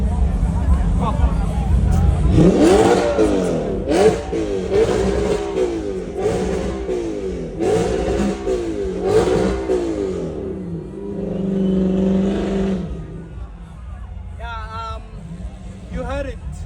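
An R8 sports car engine revs repeatedly at a car show, loud rising and falling blips close by, with voices talking over and between the revs before it settles down.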